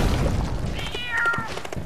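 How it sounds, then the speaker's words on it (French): A cartoonish cat meow from the motorbike stunt game Trials Fusion, on a level with a galloping unicorn: a short, high, wavering cry over a dull rumbling game background. "il y a le bruit du galop de la licorne et du chat"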